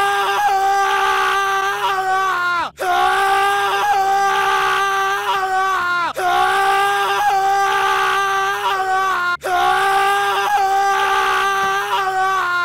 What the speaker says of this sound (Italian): Quest'arma non spara proiettili normali, bensì urla.